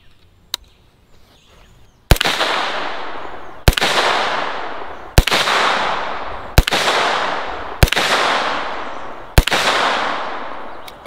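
Six loud, close gunshots ring out at evenly spaced intervals while a 3 MOA green dot reflex sight is zeroed from a shooting stick, each sharp crack followed by a decaying echo; a faint tap comes before the first.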